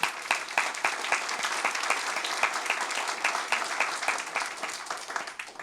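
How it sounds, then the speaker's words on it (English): Gallery audience at a school board meeting claps in a crisp, steady round of applause, individual hand claps distinct and close, tapering slightly near the end. "let's give them a round of applause"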